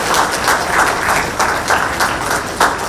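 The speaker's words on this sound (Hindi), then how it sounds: "जोरदार तालियां स्वागत स्वरूप जरूर हो" A crowd applauds at a ceremony welcoming the chief minister, Hemant Soren, with loud, dense clapping sustained throughout and pulsing rhythmically, no voices over it.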